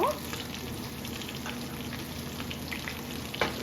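Honey garlic chicken thighs frying in a pan, a steady close sizzle and crackle that continues evenly with a brief louder clatter near the end.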